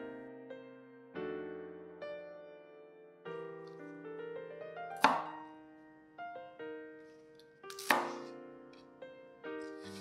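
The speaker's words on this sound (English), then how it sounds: "Then cut up the green parts into about 2 to 3 finger width lengths." Spring onions are chopped with a knife on a board, about a dozen crisp close thuds in an uneven rhythm, two sharper strikes standing out, with faint tonal music under the cuts.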